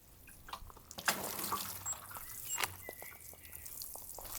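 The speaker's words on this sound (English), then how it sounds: "I'm just going to give them some water now that they are growing and making flower buds" Water poured over spring bulb containers of tulips that are growing and forming flower buds, giving soft, close splashing and trickling with a few drip-like bursts, fairly quiet throughout.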